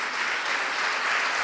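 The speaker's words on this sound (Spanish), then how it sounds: "Dale un aplauso al Señor" A church congregation claps during a sermon, a dense, even burst of applause heard alone for a moment with no voices over it.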